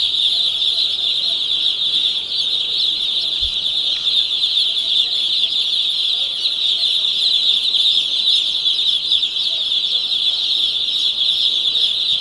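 Many young chicks on a poultry farm keep up a dense, steady chorus of high peeping that runs without a break from start to end at an even level.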